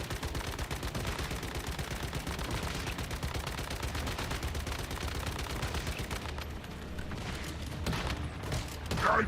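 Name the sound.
gunfire in the video game Once Human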